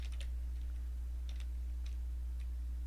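A few sparse clicks of typing on a computer keyboard, faint and scattered in small clusters over a steady low hum, no voices.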